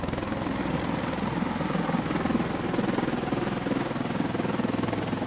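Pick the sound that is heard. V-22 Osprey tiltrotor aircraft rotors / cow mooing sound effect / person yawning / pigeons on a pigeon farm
V-22 Osprey tiltrotor aircraft rotors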